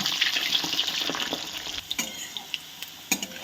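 Carrots deep-frying in hot oil give a bright, continuous sizzle that gradually thins out, broken by scattered clicks and taps of a utensil against the pan.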